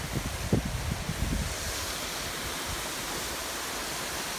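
A forest waterfall in Pennsylvania rushes with a steady, broad hiss, preceded by a few close thumps and handling knocks in the first second and a half.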